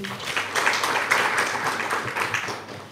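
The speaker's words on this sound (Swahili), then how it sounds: "Tumpigie makofi." Audience applause at an official shop opening at the SGR railway station in Dar es Salaam: steady, dense clapping that holds at an even level for about three seconds with no break.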